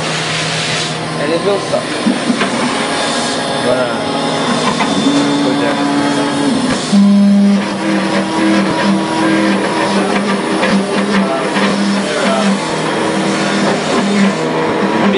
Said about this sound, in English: We press start. As to turn on the router